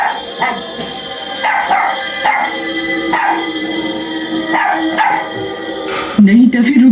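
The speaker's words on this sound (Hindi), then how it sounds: "अरे मैंने तो कोई कुत्ते की आवाज नहीं निकाली।" A dog barks over and over in a steady run of sharp barks, loud and close, with voices talking alongside and a whine near the end.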